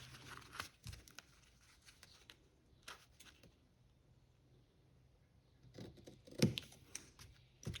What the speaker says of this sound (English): I'll just need to trim that with my scissors as neatly as possible